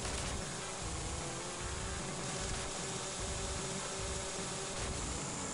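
A bomb-dropping helicopter in the Sega racing game Chase HQ II, its rotor heard as a steady low thumping pulse of about two to three beats per second beneath a constant hissing, buzzing engine drone.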